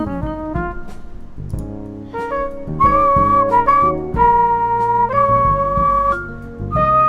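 A clear whistled melody with wavering pitch rides over a steady backing of sustained musical chords, fairly loud and close.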